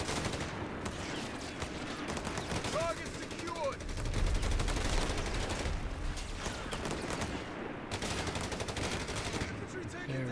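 Sustained gunfire and bursts of machine-gun fire in the World War II strategy game Company of Heroes 3, rattling densely throughout with a heavier thumping surge in the middle.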